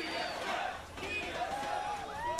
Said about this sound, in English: 3 out of 10 TSM chant for the crowd. One of the weaker chants I've heard.